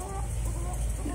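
Cochin bantam hens cluck softly amid other backyard chickens in summer heat, brief low clucks over a steady noisy background without voices.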